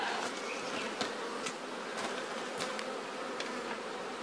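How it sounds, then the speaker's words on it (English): Honey bees buzz around a hive entrance during an artificial swarm split as flying bees return home, a dense, steady droning hum with individual bees zipping past close by, with no talking. "all the flying bees, because this has always been home, are going to come home"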